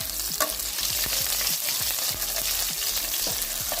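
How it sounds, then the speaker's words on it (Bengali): Chopped garlic frying in hot oil after dried red chillies, a steady loud sizzle with repeated scraping stir strokes throughout. "রসুনটা ভালোভাবে ভেজে নিচ্ছি"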